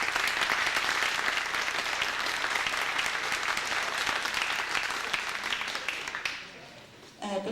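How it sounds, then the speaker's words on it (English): Audience applause at a school candidates night in Groveland, steady dense clapping that fades out toward the end. "applause, don't you?"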